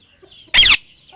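A chicken lets out a single short, loud, harsh cluck up close, with near silence before and after.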